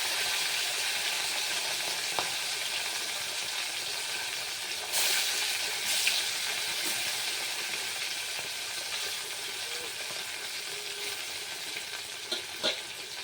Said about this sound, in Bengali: তেলটা গরম হয়ে গেছে, এবার আমি মাছগুলো দিয়ে দেবো।